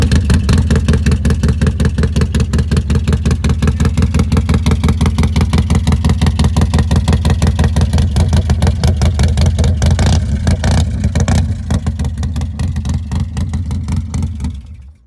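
A Harley-Davidson motorcycle V-twin engine idles loud and close with a steady lumpy pulse, then revs up in several surges near the end before dropping back, with no voices over it.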